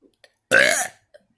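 A single loud, close burp lasts about half a second, raspy and throaty, in otherwise quiet surroundings with a few tiny clicks around it.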